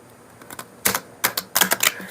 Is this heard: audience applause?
no